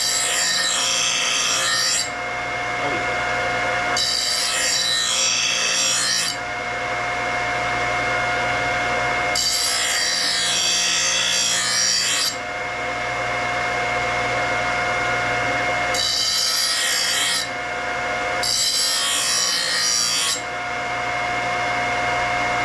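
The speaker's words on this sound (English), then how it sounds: "now it's time to do some deburring here." Sharpened blades are deburred with repeated rasping, filing strokes in distinct bursts, loud and close over a constant machine hum.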